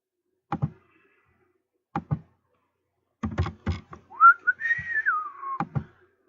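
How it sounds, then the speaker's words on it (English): A person whistles a short rising-then-falling tune, clear and close, amid sparse clicks and knocks like keyboard taps and desk bumps. "the reason why I whistled"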